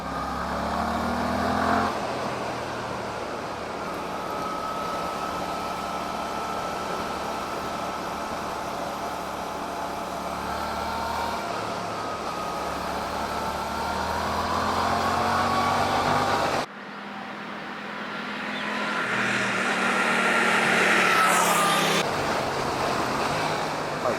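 Suzuki GSX-8S motorcycle engine revving and pulling while riding in second gear, pitch rising and falling through gears, with wind rush throughout and a brief dip mid-ride.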